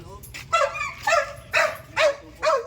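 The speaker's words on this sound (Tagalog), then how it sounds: "Bakit may aso pa kayo?" A dog barks in five evenly spaced, loud, close bursts, heard over low rumbling background noise.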